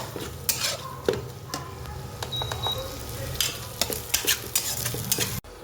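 Garlic and ginger paste frying with browned onions in oil for a pabda fish curry, a continuous sizzle punctuated by repeated scraping and tapping of a spatula against the pan, close and busy.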